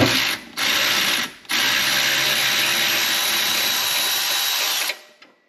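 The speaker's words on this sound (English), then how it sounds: "Yeah, that makes a big difference if you put the ratchet wrench in reverse" A ratchet wrench running in reverse, a loud, close, continuous rapid clicking of the pawl that stops briefly twice and then cuts off near the end.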